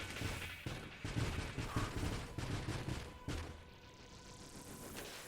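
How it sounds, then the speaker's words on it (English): Many bullets firing in the space shooter Nova Drift, a rapid, continuous rattle of gunfire shots in quick bursts, fairly faint, easing off toward the end. "Too many bullets."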